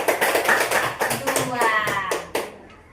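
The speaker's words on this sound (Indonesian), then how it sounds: "Tepuk tangan dulu untuk kelompok 2." Classroom applause for a student group at the front, a few seconds of scattered hand clapping and taps mixed with children's voices and chatter, fading toward the end.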